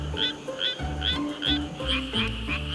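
Suwon tree frog, an endangered species, calling while clinging to rice stalks, giving a steady run of repeated close, loud croaking notes roughly twice per second with no talk.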